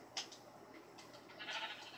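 Sheep bleating in the video game Minecraft on a survival farm, a few short cries near the start and a longer bleat toward the end over a quiet game background.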